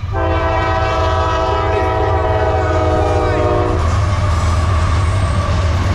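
An eastbound Norfolk Southern freight train rumbles past close by with a loud, steady low drone, and its horn blares for the first few seconds before cutting off while the heavy rolling noise continues.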